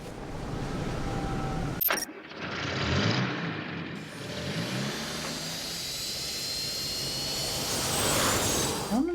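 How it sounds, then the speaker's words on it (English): Jet engine noise in the video game Nancy Drew: The Creature of Kapu Cave, a broad rushing roar that swells and holds for several seconds after a sharp cut, steady and moderately loud with no speech. "I don't understand the jet noise."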